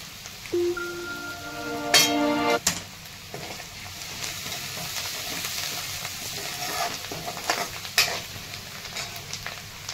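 Asafoetida crackles and sizzles in hot oil for curd kadhi, with a spoon scraping and stirring the pan in a few sharp bursts over a soft continuous frying hiss.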